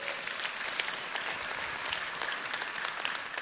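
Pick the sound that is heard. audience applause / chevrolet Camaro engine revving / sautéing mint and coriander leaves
audience applause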